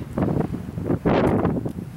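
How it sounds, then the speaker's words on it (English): Gusty outdoor wind buffeting the microphone in the mountains, rising and falling in loud rumbling surges with a strong blast near the middle. "It's very windy"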